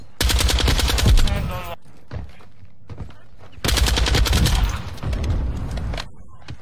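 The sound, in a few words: Lachmann 762 rifle firing in Call of Duty MW2 video game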